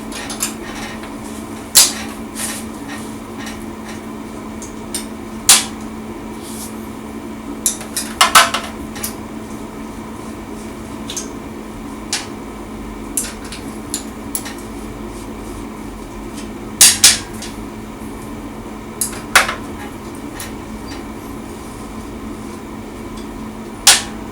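Metal clinks and taps from a 10 mm wrench working the cylinder head bolts of a Mustang 125 motorcycle, a series of sharp, separate clicks spread unevenly over a steady low hum, with no talking.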